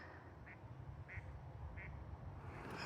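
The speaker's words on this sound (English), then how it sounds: "I can hear some ducks." Ducks quacking at a distance in a winter landscape in central Utah, three brief evenly spaced quacks over a steady low background rumble, no voices.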